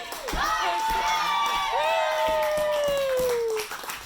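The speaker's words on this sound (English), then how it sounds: "youth campers gather to cheer for the box of mystery" Youth campers cheer and shout together inside a summer camp eating lodge, a loud crowd of young voices with whoops and rising yells, sustained for a few seconds before easing off.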